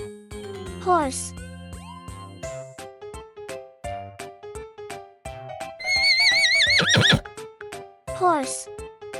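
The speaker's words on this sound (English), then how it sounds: "Horse." A farm horse whinnies loudly in a rising, wavering neigh near the end, set over bright, steady background music.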